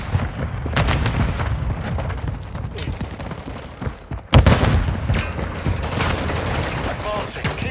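Gunfire in Call of Duty: Modern Warfare 3 war mode crackles in dense, continuous bursts with a heavy boom midway, loud and close against a busy battle din.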